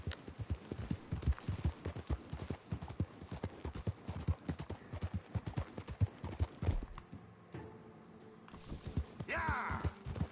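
A horse gallops in Red Dead Redemption II, with fast, close hoofbeats drumming steadily for about seven seconds, then a short pause and some faint jingling.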